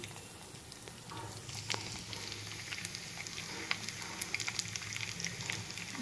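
Mustard seeds, chana dal and urad dal frying in hot oil in a pan for upma, a faint continuous sizzle with scattered small pops and crackles, no talking.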